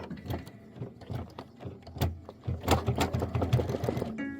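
An embroidery machine stitching a pillow design, a rapid mechanical chatter of needle strokes in uneven bursts, close and fairly loud, with a brief mechanical whir at the end.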